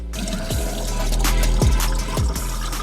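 Water running from a drinking-water vending machine into a container, a steady close pouring rush with a few gurgling, rising-pitch filling notes as the vessel fills.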